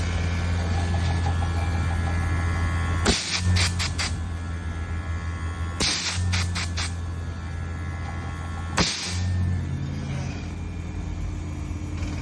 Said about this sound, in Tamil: கம்ப்ரஸர் ஸ்டார்ட் ஆகிட்டு